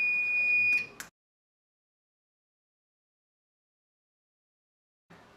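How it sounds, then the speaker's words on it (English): During an LMRQ card replacement, an alarm buzzer sounds close and loud for about a second, then cuts off into silence. A faint noise returns near the end. "In many cases there will be an alarm condition coming up."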